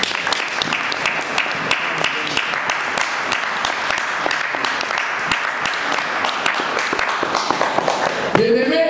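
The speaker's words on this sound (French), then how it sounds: "Acclamons pour la gloire du Seigneur." A church congregation at a Sunday service applauds steadily, dense overlapping claps filling the whole span at an even, loud level, with a voice rising briefly near the end.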